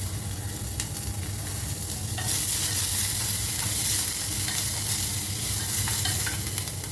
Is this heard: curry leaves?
yes